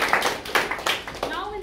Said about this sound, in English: Big round of applause for my tag team